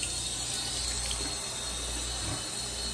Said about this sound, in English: Then they wash their hands.